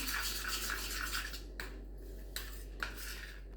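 Garlic butter being mixed in a bowl with a spoon: steady scraping and rubbing, then a few sharp clinks against the bowl's side, close up, with no talking.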